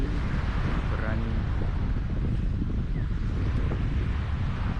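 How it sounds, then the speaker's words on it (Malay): Strong wind buffets the microphone at a beach campsite as ocean waves roll in, a constant loud rumbling roar with no pauses. "Angin, ombak silih hujan."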